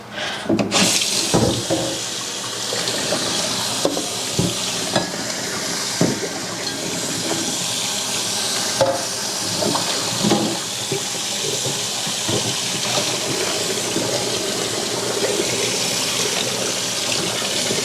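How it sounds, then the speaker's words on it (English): Hot water runs hard from a tap over a cast iron pan in a sink, a loud continuous splashing rush lasting the whole stretch, with occasional clanks of the pan and no talking. "So after that, give it a good rinse."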